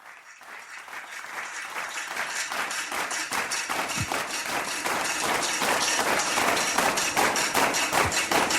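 A studio audience gives a steady, dense round of applause welcoming a guest onto a show, loud and sustained, building slightly and continuing without talk.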